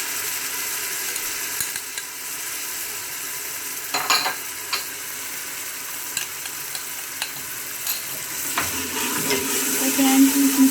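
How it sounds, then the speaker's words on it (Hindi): Red chilli, salt, turmeric and tomatoes frying together for murgh daal, a continuous sizzle with scattered clicks and scrapes of stirring, the sizzle swelling slightly toward the end. "तो फ्रेंड्स, मसाले को अच्छी तरह भून लें"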